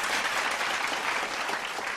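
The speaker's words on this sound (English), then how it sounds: "Let's give all of them a big warm round of applause." Warm applause from an audience at a partners' appreciation ceremony, a continuous even roar of many hands clapping, steady and moderately distant throughout.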